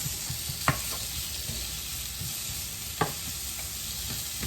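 Steak frying in olive oil in a pan, with a steady broadband sizzle throughout and two sharp utensil clicks or stirring knocks standing out briefly above the constant crackle.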